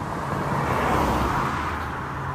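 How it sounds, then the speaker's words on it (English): A car passes by on a city street, a steady broadband roadway rumble that swells slightly mid-way and fades, heard close and alone with no talking. "Oof, I almost got hit by a car."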